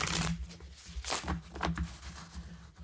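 A deck of tarot cards shuffled by hand during a reading, giving a run of soft papery riffles and slaps, close and moderately loud, with no talking.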